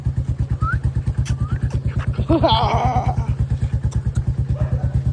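A modified Bullet motorcycle engine idles close by with a deep, even thumping pulse, steady throughout, with a brief clatter and a faint voice in the middle.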